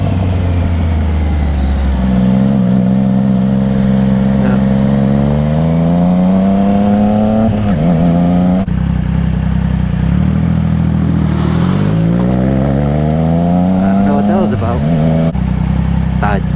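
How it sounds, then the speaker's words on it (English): A car's engine revs hard as the gas pedal is floored, pitch climbing in long sweeps while the wheels spin and lose traction, loud and close throughout. "Dude just kind of floored the gas pedal and he started spinning."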